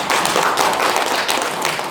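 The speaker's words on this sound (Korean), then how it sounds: "우리 권항섭 회장님께 큰 박수 부탁드립니다." Applause from an audience at a panel discussion on R&D funding for small and venture businesses: dense, steady clapping from many people, loud and continuous throughout.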